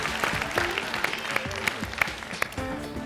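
Applause from a talent show semifinal audience, continuous clapping with scattered sharper claps and some music or voice tones mixed underneath.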